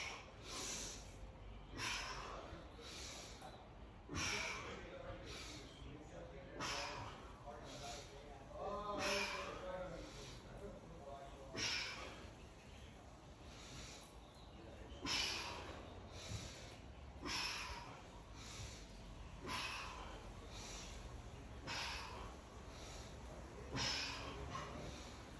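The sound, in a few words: breathing during T-spine rotation exercise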